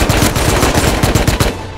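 Rapid automatic gunfire in the Rust video game, a loud sustained burst of closely spaced shots that stops abruptly near the end, with no talk over it.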